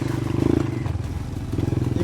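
A 250cc motorcycle engine revs under the throttle, giving a pulsing, buzzing note that rises and dips over a couple of seconds, close and fairly loud.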